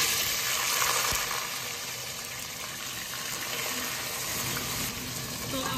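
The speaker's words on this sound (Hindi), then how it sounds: "तो आलू को हमें अच्छे से इसमें थोड़ी देर फ्राई करना है।" Potatoes fry with cumin in hot oil in a pan, giving a loud, continuous sizzle with a hissing, watery texture and a sharp clack near the start.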